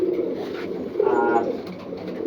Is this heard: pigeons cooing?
yes